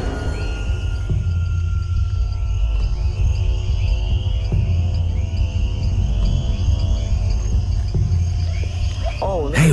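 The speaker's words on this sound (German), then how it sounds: "Frösche und Grillen huschen durch die Nacht" Crickets and frogs call through a tropical night, steady layered chirping and trilling that carry on continuously and fairly loud, with a narrator's voice speaking over them.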